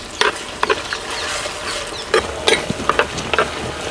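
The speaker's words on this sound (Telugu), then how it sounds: "కోసి పెట్టుకున్న 3 మీడియం సైజు ఉల్లిపాయ ముక్కలండి వేసేసుకుంటున్నాను" Three medium sliced onions fry in a pan for white mutton dum biryani, with a constant sizzle broken by several sharp stirring scrapes and clatters close by.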